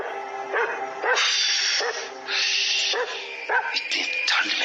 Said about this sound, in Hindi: भौंक रहा है। शांत करो इसे।